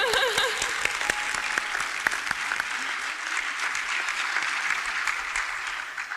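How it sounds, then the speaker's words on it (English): Sustained audience applause fills the hall at a college graduation ceremony, a loud, dense wash of clapping that carries on for several seconds without speech. "I think we deserve a round of applause for that one."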